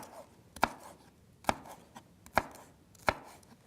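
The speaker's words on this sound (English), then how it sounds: "so we have some green pepper and you can finish chopping that at home" A kitchen knife chops through green pepper on a cutting board, four sharp, evenly spaced knocks against a quiet background with no talking.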